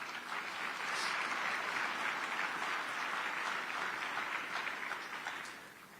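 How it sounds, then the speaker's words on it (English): Dense round of applause from a large gala crowd at the Black Conservative Federation event in South Carolina, a sustained even wash of clapping that holds steady for several seconds before tapering slightly at the end. "I want to give you all a round of applause"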